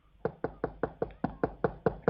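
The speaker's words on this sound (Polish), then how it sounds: "ktoś puka!" Brisk knocking on a door, about ten evenly spaced raps in quick steady rhythm, moderately close and fairly quiet, with no voices.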